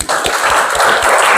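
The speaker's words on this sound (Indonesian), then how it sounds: "Tepuk tangan dulu" A classroom of students gives a round of applause, dense overlapping claps starting abruptly and continuing steadily, loud and close, no speech.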